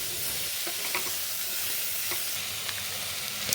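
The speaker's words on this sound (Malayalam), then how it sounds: "തക്കാളി ഇട്ട ശേഷം നന്നായിട്ടൊന്ന് ഇളക്കി കൊടുക്കാം" Vegetables and chopped tomato sizzle steadily in an oiled pan for biryani while a spoon stirs through them, with soft scraping clicks over a constant frying hiss and no voices.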